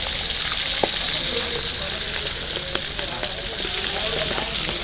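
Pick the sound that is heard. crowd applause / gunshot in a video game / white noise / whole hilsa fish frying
whole hilsa fish frying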